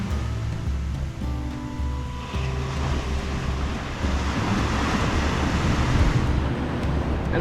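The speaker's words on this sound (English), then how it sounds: "the waves are just amazing" Ocean surf near Apollo Bay rolls in as a steady, loud wash of broadband roar, with wind buffeting the microphone and a low rumble underneath throughout.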